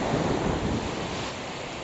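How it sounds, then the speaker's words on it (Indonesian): Large ocean waves break and surge continuously onto a beach, a loud, steady broadband roar with wind buffeting the microphone and no voices. "Hari ini ombaknya lumayan besar."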